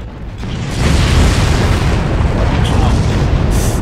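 A loud boom in Far Cry swells into a heavy, sustained roar of explosion or gunfire that stays dense and rumbling for several seconds, with a voice speaking over it.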